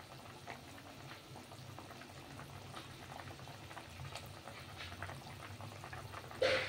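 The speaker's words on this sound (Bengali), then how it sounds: "ঝোলটা ফুটে উঠেছে" Bubbling fish curry gravy boils quietly in a pan: a faint, continuous burble and low sizzle, with a brief louder clink at the very end.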